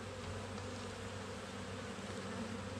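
Honeybees buzzing steadily at an open hive during an inspection, a dense, continuous hum close by with no voices.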